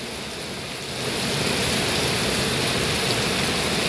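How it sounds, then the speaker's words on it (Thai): Steady rain pours down on a longan orchard in Chiang Rai, Thailand, as a dense, loud hiss, swelling heavier after the first second and continuing unbroken. "บรรยากาศฝนตก"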